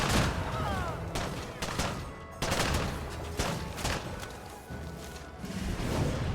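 Repeated bursts of gunfire and heavy thuds from a flanking shot attack in the strategy game Civilization VII, loud and busy, several sharp volleys spaced across the passage over a constant battle din.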